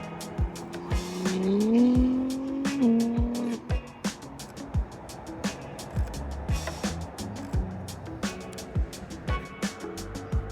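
A car drives by outdoors during a photo shoot, its engine tone rising and sliding in the opening seconds with tire noise, followed by a series of sharp clicks and knocks that continue to the end.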